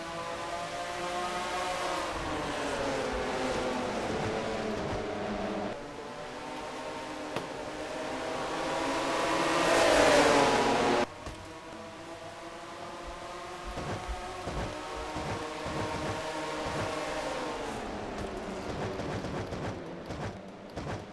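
Ford and Chevy stock cars in an NNSCRA Mello Yello series race, the New England Chevy Dealers 250, roar off at the green flag. Engines drone steadily, swelling in pitch to a peak and then dropping back to a sustained pack roar.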